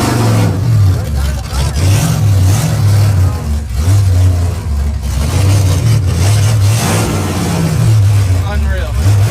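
An old drag race car engine roars loudly and steadily during a run, its rumbling note rising and falling in repeated surges. It sounds close and fills the clip, and a voice may be buried under it.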